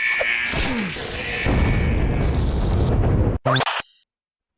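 Grenade explosion in the Henry Stickmin game Fleeing the Complex, a loud broad blast with a crackling roar that builds over a couple of seconds, followed by sharp clanks and then an abrupt cut to silence.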